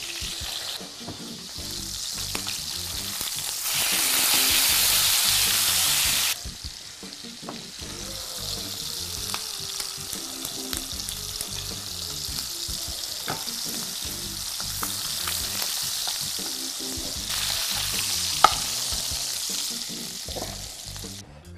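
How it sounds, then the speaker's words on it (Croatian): Hake fillets sizzle steadily in a frying pan, a close, continuous crackle with a louder burst of spitting oil midway and no talking. "Dok se oslić naravno prži"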